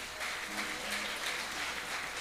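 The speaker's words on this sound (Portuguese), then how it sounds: "Começou a aplaudir." A church congregation applauds during a service, continuous dense clapping at moderate loudness with a faint low tone underneath.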